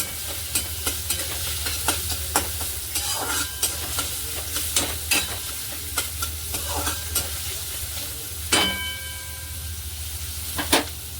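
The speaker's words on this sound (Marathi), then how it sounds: "कांदा नरम होईपर्यंत आपण याला फ्राय करायचं।" Onions fry in a pan with a steady close sizzle while a spoon stirs, clacking against the pan in irregular sharp taps, with no talking.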